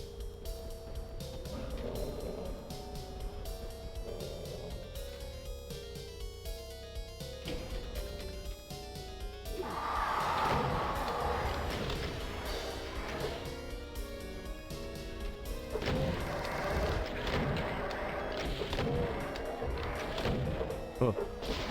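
Rocket launcher blasts and explosions in the DOOM video game, repeated thuds and crashes over a busy, dense game soundscape.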